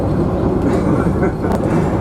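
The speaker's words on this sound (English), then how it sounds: "You are now riding the premier Golf Savannah train, not the Golflander" Savannahlander heritage train running on the rails from Mt Surprise to Einasleigh, a steady, loud low rumble of wheels and carriage with faint rattles throughout.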